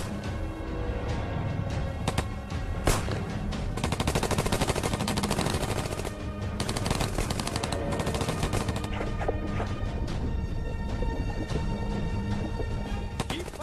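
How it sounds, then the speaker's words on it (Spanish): Dense gunfire in a wartime submarine attack on a ship carrying prisoners of war, a continuous rattle of rapid shots with louder bursts, close and loud throughout. "¡Seguid disparando!"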